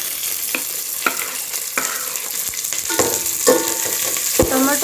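Fenugreek leaves and onion fry in a pan for biryani, a continuous close sizzle punctuated by regular scraping strokes of a spatula, with the stirring growing busier toward the end.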